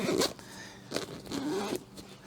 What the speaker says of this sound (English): So I'm going to zip this one back up.